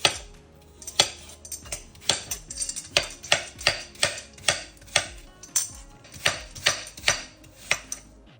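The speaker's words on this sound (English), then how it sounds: "So I'm just going to chop the apple into little chunks." A knife chops an apple into little chunks on a board, with a steady run of about fifteen sharp, close knocks spaced roughly half a second apart, with no talk.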